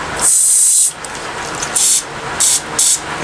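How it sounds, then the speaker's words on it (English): Carburetor cleaner sprays into the carburetor of a Poulan Pro push-behind weed trimmer in four loud, close hissing bursts: one long burst, then three short ones. "Stick your carb clean in that."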